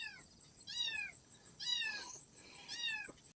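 Three high, thin kitten meows come in quick succession, fairly close and clear against a quiet background.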